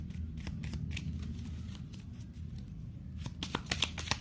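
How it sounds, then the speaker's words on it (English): Playing cards being shuffled: quiet, crisp riffling clicks in short bursts, clustering more densely toward the end, with no talking. "While I'm shuffling."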